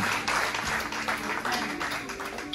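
A congregation applauds at a Mother's Day church service: dense, steady clapping that lasts throughout, blended with a faint sustained tone in the background.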